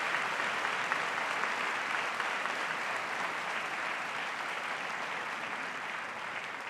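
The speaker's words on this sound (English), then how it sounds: "So if you could all stand and give them a round of applause" Sustained applause from a large audience rising to its feet at a presidential debate hall, dense and steady clapping throughout with no voices over it.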